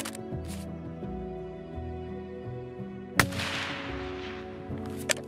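Sniper rifle in Escape from Tarkov on Shoreline cracks out a single sharp, loud shot with a trailing echo, followed by a fainter second report near the end, over a low engine-like hum.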